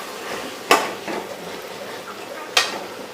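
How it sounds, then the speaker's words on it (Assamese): A lid set onto a cooking pot of potatoes simmering in water, two sharp metallic clanks about two seconds apart over faint kitchen background. "পানীখিনি দি পেলাই মই এতিয়া ঢাকনি দি দিম আলুখিনি সিজিবৰ কাৰণে"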